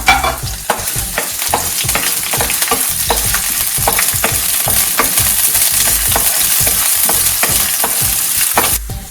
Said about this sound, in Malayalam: എണ്ണ ചൂടാവുമ്പോൾ അതിലേക്ക് വെളുത്തുള്ളി ഇഞ്ചിയും പച്ചമുളകും ഇട്ട് വഴറ്റാം